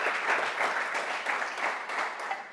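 A church congregation applauding, an even wash of many hands clapping together throughout.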